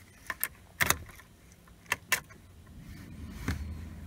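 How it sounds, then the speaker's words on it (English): Ignition keys jangle in a Volkswagen T5 van, a few short metallic rattles in quick bursts, close and fairly quiet, followed by a faint low hum. "So let's just put the ignition key in."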